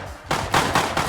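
Gunfire from the survival video game Rust during a fight, landing a headshot: a quiet lull broken by several sharp, loud shots in quick succession, each a broad burst with short decay.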